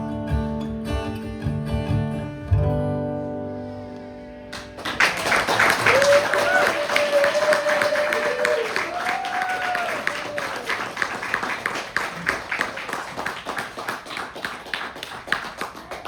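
Applause from an open mic audience breaks out after a musical ending, a dense, close burst of clapping that continues steadily while a voice speaks over it.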